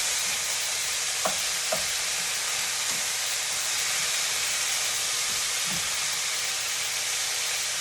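Steak and lomo saltado ingredients sizzle in a hot pan with a steady, bright, hissing fry, joined by a few faint clinks and soft stirring scrapes.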